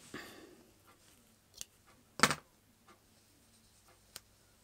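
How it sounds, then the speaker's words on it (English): Scissors cut through yarn at the end of a crochet sweater piece, giving one crisp close snip among a few faint clicks and small handling ticks in an otherwise quiet room. "I'm just going to cut the yarn."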